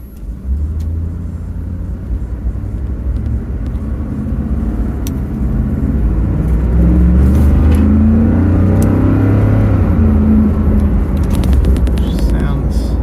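The 5.0 V8 of a 2018 Ford F-150 pickup rumbles deep and throaty, steady and up close, swelling slightly louder toward the end, with a voice now and then underneath.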